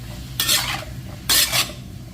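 A metal utensil scrapes twice through a filling with dried scallops stir-fried in a pan for Thai-style bak chang rice dumplings, two distinct sweeping stirs over a low background hum.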